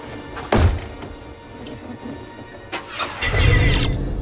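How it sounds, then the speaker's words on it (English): The time machine car from Back to the 2015 Future starts up: a loud thunk opens it, a fainter clunk follows midway, then the engine catches and settles into a close, rumbling idle. "Engine running."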